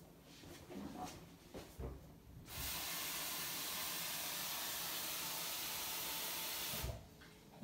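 A Senseo coffee machine's water reservoir is filled from a tap, a steady broadband rush of running water lasting about four seconds, preceded and followed by quieter handling clatter.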